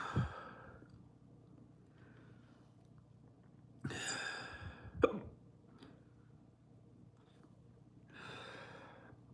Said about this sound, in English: That's the first time I got hiccups off a tincture